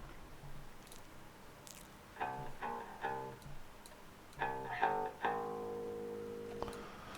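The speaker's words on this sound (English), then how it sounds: "this bass is a bass without bass" A bass guitar part with its low end stripped away, leaving thin, clicky plucked notes in short phrases, moderately loud and alone.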